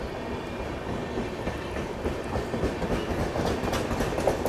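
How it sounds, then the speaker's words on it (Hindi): The Shri Jagannath Express rolls past on the rails near Balasore, a steady loud rumble with rhythmic clatter of wheels over the joints, continuous and close. "इसी के साथ श्री जगन्नाथ एक्सप्रेस भी बालेश्वर के आउटर में पहुंच चुकी है"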